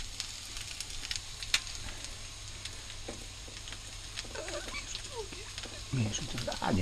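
Egg, potato and ham cutlets frying in a pan, a steady soft sizzle with occasional pops, heard close up with a person speaking briefly toward the end.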